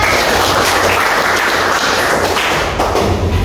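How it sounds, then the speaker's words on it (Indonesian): A classroom of students gives lively applause, dense close clapping with thumping hand slaps sustained throughout, no voices over it. "aplaus yang meriah"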